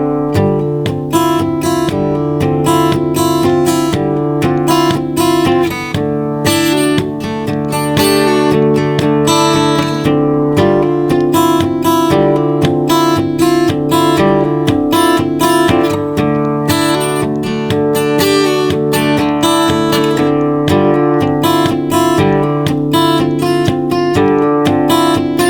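Acoustic guitar playing a song intro, steady strummed and picked chords with clear repeated attacks, close and loud, no talking.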